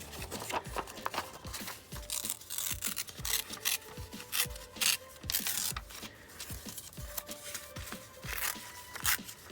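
Paper being torn by hand from a small mixed-media collage on an index card, a steady run of close rubbing, crinkling rips with no talking.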